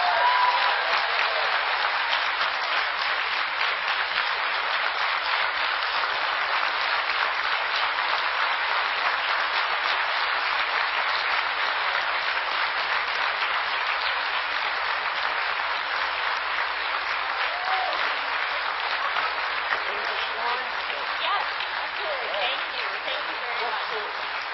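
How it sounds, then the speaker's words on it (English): Sustained, dense applause from a large convention audience greets a keynote speaker, a loud, even wash of clapping that holds steady for the full stretch without letting up. "Give her another round of applause"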